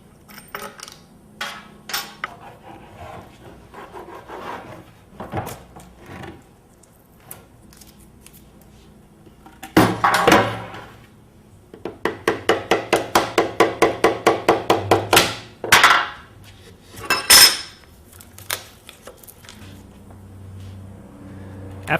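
A cured resin stator mold for a homemade wind generator is unbolted and pried apart, giving scattered knocks, then a rapid run of sharp clicking and cracking snaps, close and fairly loud.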